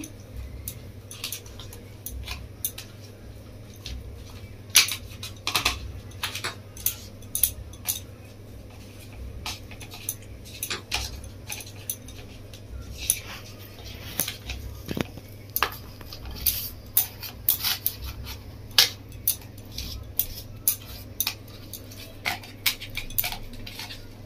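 Hands rubbing salt onto two rohu fish heads in a metal dish, giving a steady run of clinks, taps and wet scraping under a low constant hum, with no talk.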